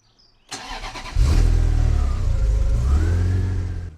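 A Ferrari, back on the road after 28 years, starts and rolls off the ramps, its engine catching sharply, then revving into a loud, steady close-up growl.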